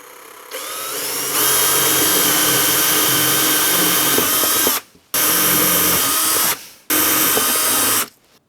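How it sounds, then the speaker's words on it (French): A power drill bores 7 mm holes for M6 screws, revving up to a loud, steady whine in three long bursts separated by short stops. "les vis, c'est du M6, donc l'idéal, c'est de percer à 7 mm"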